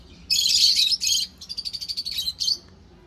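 Caged lutino red-head birds giving sharp, high chirps in close bursts, a long call, then a rapid stuttering series and a final short note.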